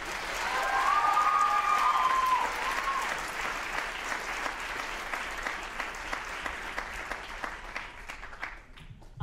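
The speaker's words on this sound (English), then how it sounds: "let's give this courageous, funny, talented, creative group another round of applause" Audience applause at a high school writers week event, loud dense clapping from a large crowd with a brief whistle early on, then settling into steadier, slightly thinner clapping that tapers near the end.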